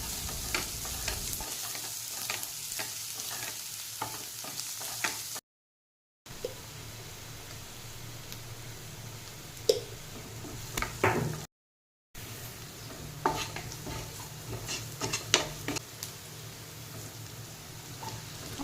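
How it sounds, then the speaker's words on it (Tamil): Marinated cauliflower fries in a pan with a steady close sizzle, broken by scraping and stirring sounds and two brief gaps. "ஆட் பண்ணி அது நல்ல கோல்டன் ப்ரௌன் ஆற வரலும் நம்ம வந்து ஃப்ரை பண்ணிகிட்டே இருக்கணும்."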